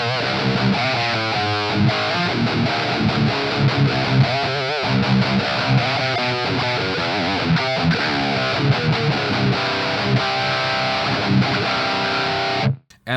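Heavily distorted metal guitar riffing through a Blackstar BEAM amp on its Mendel Rec model, with dense chugging palm-muted chords and tight stops, loud and continuous for over twelve seconds before a sudden break.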